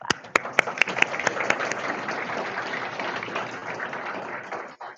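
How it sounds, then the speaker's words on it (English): Audience applause at a high school senior graduation celebration, opening with a few sharp distinct claps and swelling into steady applause from a large crowd that fades near the end. "We can clap."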